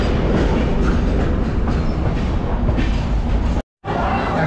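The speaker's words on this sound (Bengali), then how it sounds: "খড়গপুর জংশনের 3 নম্বর প্ল্যাটফর্মে আমাদের ট্রেন ঢুকেছে।" A passenger train rolls into Kharagpur Junction station with a loud, close, continuous rumble and rattle of carriages and rhythmic wheel clatter. The sound drops out for a moment, then resumes.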